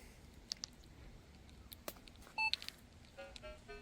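A metal detector beeps as it is switched on: a couple of short electronic beeps followed by a brief tonal chirp, faint against a quiet room with small handling clicks.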